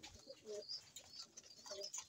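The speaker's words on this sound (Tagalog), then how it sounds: "At ang ibon natin na si Ganus andito." Soft, low cooing from a pigeon, repeated in short gentle phrases, with faint chirps in a quiet setting.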